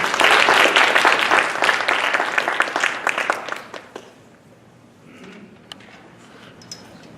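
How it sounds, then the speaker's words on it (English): Applause from an audience at a university International Mother Language Day celebration greets a speaker on endangered languages, loud and dense for about four seconds, then fading to scattered claps and quiet room noise. "Give her a round of applause"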